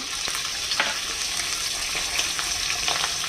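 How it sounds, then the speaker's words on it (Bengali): Prawns fry in a spoonful of hot oil in a kadai, with an even, close sizzle and occasional light stirring taps throughout. "এটাতে তেল গরম হয়ে গেছে। এবারে এটার মধ্যে দিয়ে দেব চিংড়ি মাছগুলো"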